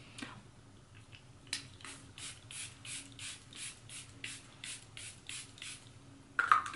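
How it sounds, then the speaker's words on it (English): A pump bottle of makeup setting spray mists onto a face in about a dozen quick, evenly spaced hissing bursts, close and crisp in a quiet room, followed by a brief clatter at the end. "So let's go ahead and spray my face actually"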